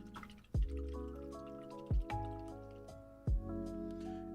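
A paintbrush swishes and taps in a cup of rinse water during miniature painting: three short splashy knocks, evenly spaced, close and fairly soft, between sustained musical tones.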